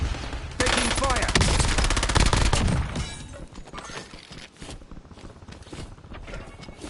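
Loud rapid automatic gunfire in a combat game, a sustained close burst followed by scattered crackling shots and impacts that fade into the distance.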